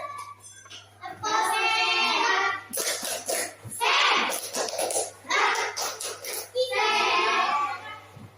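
A primary school class performs a rhythmic clapping chant, with bursts of brisk group handclaps in patterned beats alternating with children's chanting voices indoors, fairly close.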